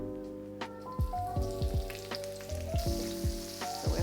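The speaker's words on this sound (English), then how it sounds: "So we're frying off our onions." Brown onions frying in oil in a pan, a steady close sizzle with repeated soft stirring scrapes against the pan and music playing underneath.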